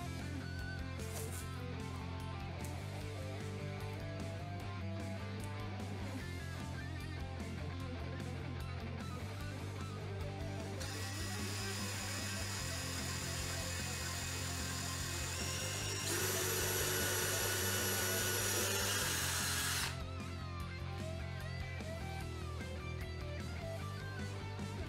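A power drill bores through the humbucker pickup cavity of a guitar body, a steady whirring hum with a higher, louder whine as the bit cuts in toward the end, close and alone.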